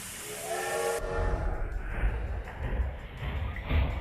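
A steam train whistle in a video game sounds loud and sustained for about a second, then gives way to hissing steam and low rumbling chuffs as the train pulls away.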